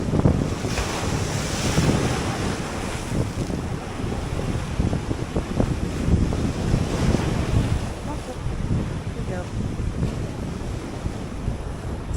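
Sea waves rolling onto the shore shortly before high tide in the early morning, a continuous loud wash of surf mixed with strong wind buffeting the microphone throughout.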